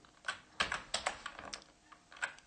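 Rapid, uneven keystrokes on a computer keyboard while a terminal command is typed, with close, crisp clicks in a continuous run and no voices.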